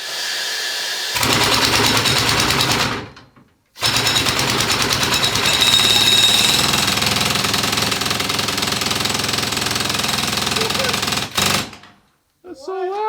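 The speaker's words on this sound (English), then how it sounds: "I'm gonna show you how this drill runs now." A loud pneumatic rock drill in a history museum hammers continuously with a rapid pounding rattle, stopping briefly once, then running on before cutting off, with a voice at the end.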